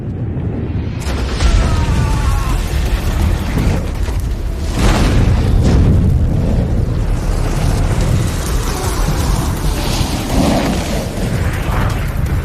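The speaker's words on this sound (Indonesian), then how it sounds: "Power menyebabkan tubuh Newt meledak" A film's explosion as a body bursts, heard as loud, dense booming blasts with rolling rumble that surge and fade over several seconds.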